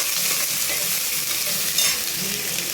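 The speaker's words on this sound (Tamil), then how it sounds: "இப்போ வெங்காயம் கருவேப்பிலை போடணும் நல்லா வதக்குங்க" Onions and curry leaves sauté in hot oil with a steady, dense sizzle and crackle, close and loud throughout, with faint stirring scrapes mixed in.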